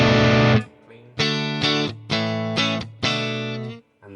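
Clean electric guitar tone from a Friedman BE 100 amp model on a Quad Cortex, with a darker mic placement off the cone center: several ringing chords in short bursts with brief gaps, clear and close.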